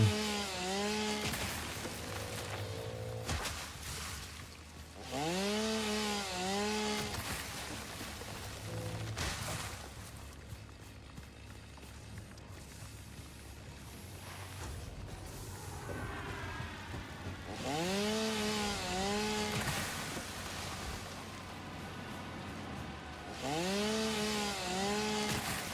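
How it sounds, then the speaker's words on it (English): A chainsaw felling trees in the video game Satisfactory, revving loudly in three or four separate bursts with rising, wavering pitch, separated by quieter stretches of game ambience and crashing timber. "I don't know what this chainsaw is made out of that it's exploding all of these poor trees."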